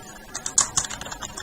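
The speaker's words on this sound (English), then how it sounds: "I'm sorry for my loud typing." Rapid clicking of keys on a computer keyboard, loud and close, in short irregular bursts.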